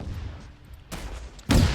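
An anti-tank rocket launcher fires during Arma 3 training, with a sharp blast partway through followed by a louder, heavier boom at the end, both over low ambient rumble.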